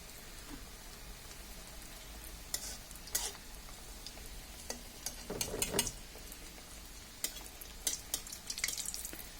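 Capsicum pakora deep-frying in hot oil gives a steady, soft sizzling hiss, with a few louder crackling bursts and occasional stirring clinks; no one speaks.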